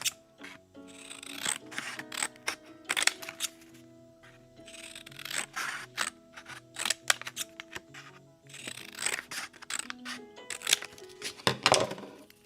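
Scissors or a paper trimmer cut strips of paper while orders are packed, giving a run of close, crisp snipping and rustling strokes in bursts, with faint background music.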